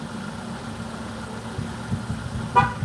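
A car horn gives a single short toot over the steady idle of an engine nearby.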